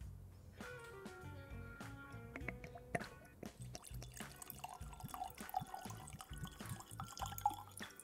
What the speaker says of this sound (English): we are going to pour ourselves a dram